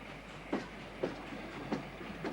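A train rolls steadily along the Burnham line, with faint rhythmic clicks of wheels over rail joints under a low rumble.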